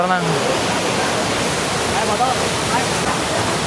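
Curug Horeng waterfall in Sentul pours with a loud, constant roaring wash of water up close, steady throughout with no pauses.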